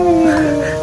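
A human voice imitates a sick person's groan: a short, loud, moaning hum held for under a second, close to the microphone.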